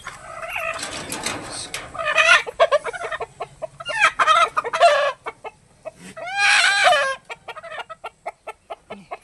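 Free-range village hens cluck close and loud in repeated bursts with short pauses between, and a rooster-like call rises among them.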